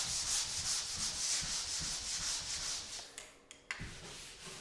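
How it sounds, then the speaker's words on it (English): Sandpaper rubbing back and forth over dried drywall joint compound covering screw holes in a wall, a close, steady scratchy rasp in quick repeated strokes, pausing briefly near the end. "And then you sand it like that."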